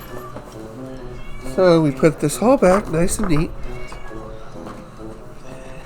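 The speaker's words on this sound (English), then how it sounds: "Pretty sure it's my cat." A big, fat black-and-white cat meows in a drawn-out, wavering series of calls lasting a couple of seconds, close and fairly loud, with someone talking before and after.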